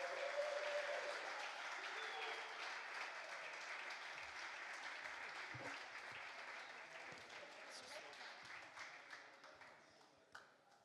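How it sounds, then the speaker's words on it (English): Audience applause fills a venue before a comedy football show, steady clapping and cheering that holds loud for about ten seconds before tapering off. "Round of applause for Zander and Husna."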